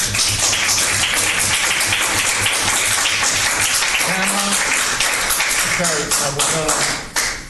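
Audience clapping in a county commissioners court meeting, sustained loud applause from a crowd with some voices rising through it before a speaker begins talking over the fading claps.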